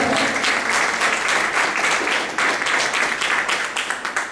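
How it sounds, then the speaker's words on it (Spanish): Members of a Spanish-speaking Christian congregation clap in unison during a sermon, a loud, bright run of applause with individual claps audible, tapering into separate fading claps at the end. "De un aplauso al Señor"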